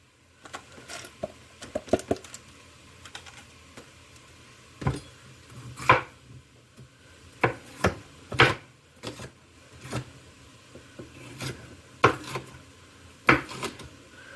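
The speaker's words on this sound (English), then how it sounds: "when I get this one chopped up, we'll go ahead and add these to the pot" A knife chops vegetables for a hearty three-bean and veggie soup, making sharp, irregular knocks on a cutting board that sound close and clear over a quiet background. No one speaks.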